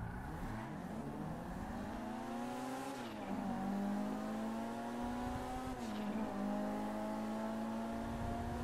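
Race cars in GTA Online, one an armored car with a level 4 engine upgrade, rev and accelerate hard, engine pitch climbing and dropping through gear shifts with tire squeal, loud and sustained.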